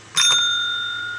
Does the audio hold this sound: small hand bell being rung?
yes